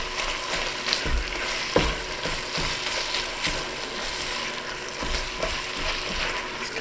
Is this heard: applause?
no